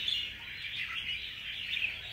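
Small wild-caught songbird, an adult bird taken from the forest, giving a steady run of high, thin chirps across the whole moment, close by and moderately loud over a faint background hiss.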